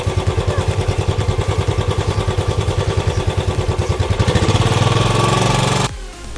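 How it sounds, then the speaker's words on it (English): A Royal Enfield Standard Bullet 500cc BS-IV motorcycle engine thumps at idle with a loud, even, close single-cylinder beat, speeding up slightly before cutting off abruptly near the end. "You just heard that sound this machine delivers."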